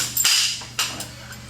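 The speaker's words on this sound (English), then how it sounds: "Appropriately sized fork seal driver, and I drive the washer and the outer bushing in first." A fork seal driver knocks a washer and outer bushing into Triumph fork tubes: two or three sharp, close metallic impacts in quick succession, each a short crack with a brief ring.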